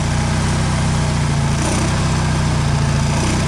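A generator engine fitted with an HHO generator runs steadily with a rough, uneven, hesitating low rumble from fuel not burning properly, close and loud, with no voices.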